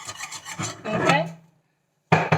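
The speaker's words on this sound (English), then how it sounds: "we're whisking to make sure we don't have any lumps of flour" A whisk scrapes and rubs briskly through flour batter in a bowl, in quick rhythmic strokes that stop briefly and then start again with a few more strokes.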